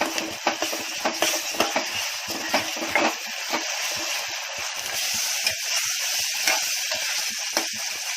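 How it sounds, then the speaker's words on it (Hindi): Konkani coconut masala is stirred into prawns frying in a pan, producing a close, continuous sizzle punctuated by regular spoon taps and scrapes against the pan. "अब इसमें जाएगा मसाला, अपने कोकनी खोपड़े वाला मसाला।"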